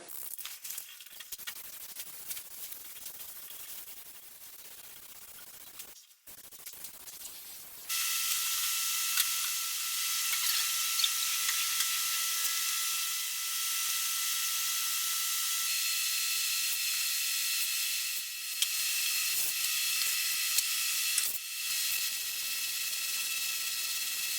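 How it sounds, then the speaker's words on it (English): A steady hiss of spray painting a surfboard runs for a long stretch, starting after a quieter stretch of faint clatter, with brief pauses and handling noises. "I'm going to spray the light one first"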